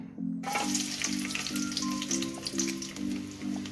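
Cut garlic hits hot oil in a pan and sizzles steadily and close, a dense crackling hiss with a faint rhythmic hum running underneath and no talking.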